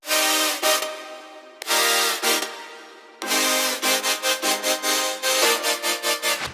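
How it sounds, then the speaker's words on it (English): Layered supersaw future bass chords with pitch bends and automation play as a bright, dense electronic stack, loud and alone, in three bursts with gaps between them. The last burst breaks into a rapid rhythmic pumping pattern. "All together with pitch bends and automation,"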